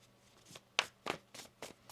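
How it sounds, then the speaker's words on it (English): Tarot cards are shuffled in a few crisp, riffling bursts spaced about a quarter second apart, quiet and close with no talk. "One more shuffle."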